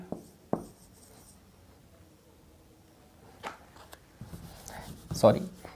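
Handwriting with pen on paper during a complex analysis lesson on singularities, faint scratchy strokes and a few taps at low level, with someone talking over them.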